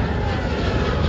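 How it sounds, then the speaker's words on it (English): An Emirates Airbus A380 on its takeoff run at Manchester Airport, a loud, steady, broadband engine roar that fills the whole moment with no break and no voices over it. "today we're going to watch another Emirates A380 takeoff"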